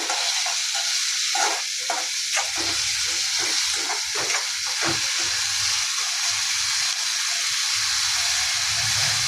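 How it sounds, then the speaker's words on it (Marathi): Chopped onions are stirred as they fry in a pan for bhurji, giving a constant hissing sizzle with a rhythmic run of soft scraping stirs near the start and middle. "छान असं हलवून घेऊया"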